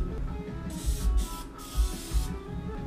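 Three short hissing bursts of cooking spray onto a steak, close up, over a background of low rumbling and sizzling.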